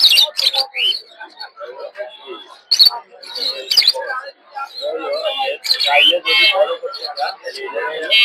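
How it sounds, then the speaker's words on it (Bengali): Budgerigars and other caged birds chirp in quick, scattered bursts at a Sunday bird market in Tongi, close by and mixed with people talking. "অনেক ধরনের পাখি আছে।"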